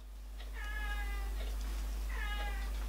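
Two drawn-out cat meows, each a rising then falling wail, sound close and fairly loud over a steady low hum, with a short pause between them and no talking.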